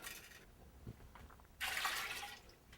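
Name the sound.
water poured into a pot for clam broth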